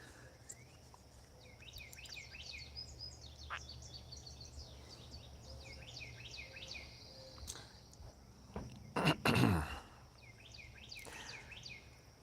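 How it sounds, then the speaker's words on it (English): Birds chirp and trill in repeated bursts at a moderate distance over a steady insect-like drone, with a brief louder rustle near the end. "since I am hearing birds"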